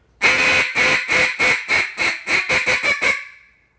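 A duck call blown as a takeoff note gives a rapid run of about eleven loud, close quacks, each shorter and quicker than the last, before tailing off.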